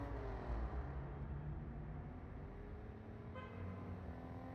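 A car engine in the Total Overdose video game drones with a steady tonal hum, close and continuous, with a horn-like toot layered over the engine sound.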